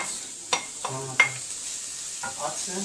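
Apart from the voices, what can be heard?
grated carrots sizzling as added to hot oil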